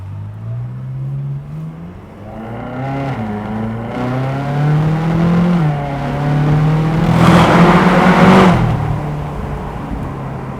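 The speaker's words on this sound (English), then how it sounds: "the sound from the exhaust doesn't really bounce off the walls or infrastructure" A 2010 Ferrari California's exhaust in sport mode drones and rises in pitch as the engine revs on a countryside road, growing louder toward a throaty roar before easing off.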